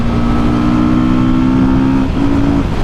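Beta motorcycle engine held at its 99 mph top speed, a loud steady drone with a sustained tone and heavy wind roar, briefly dipping near the end before resuming.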